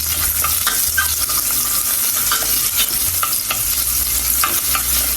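Ginger, onion and garlic sauté in a pan for a clam soup, making a loud, continuous crackling sizzle broken by frequent stirring scrapes and clinks throughout, with no one speaking.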